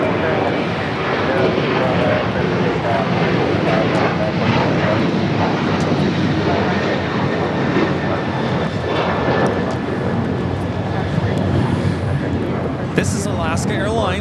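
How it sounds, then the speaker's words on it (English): An Alaska Airlines Boeing 737-800 takes off from Los Angeles airport with a steady, loud engine roar that holds throughout, with a voice talking over it. "This is Alaska Airlines 1352, taking off to San Jose, Costa Rica on the 737-800."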